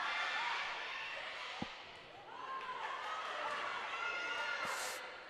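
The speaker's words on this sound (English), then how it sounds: "Crowd really getting into this volley here." Spectators cheer and shout during a volleyball rally at a high school match, a sustained, moderately distant crowd roar with squeaking shoes, a couple of sharp ball thuds, and a commentator talking over it.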